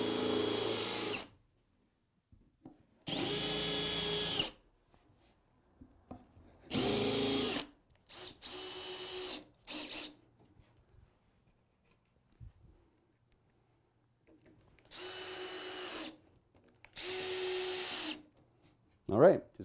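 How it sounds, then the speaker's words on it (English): Power drill countersinking screw holes in a wooden workbench top in a garage: several loud, close bursts of whirring, each a second or two long, separated by quiet pauses with soft handling noises. "Now I'm just going to countersink them."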